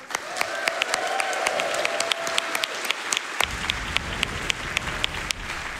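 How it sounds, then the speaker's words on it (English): Crowd at Summer Games Done Quick 2023, a live speedrunning charity marathon, claps for the tech staff in a sustained round of applause that swells about halfway through, with sharp individual claps standing out. "Can we get a round of applause for the tech staff?"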